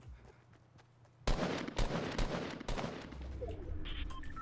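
Rifle fire in a Fortnite match, a burst of sharp, loud gunshots beginning suddenly after a quiet moment and repeating irregularly, with fainter game noise beneath.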